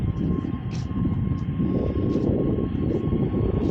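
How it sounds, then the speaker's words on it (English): EasyJet Airbus A320neo on its takeoff roll at Manchester Airport, a loud continuous jet engine roar with a broad rumbling hum and a faint steady tone, heard from the runway visitor area. "the EasyJet A320neo is now on a takeoff roll as she heads to Lisbon this morning"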